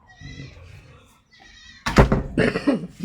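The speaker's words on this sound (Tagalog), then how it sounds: "nanganak na uli ang kambing ni Edward." A goat bleats twice in wavering, nasal calls, then a louder, harsher burst of bleating follows close by.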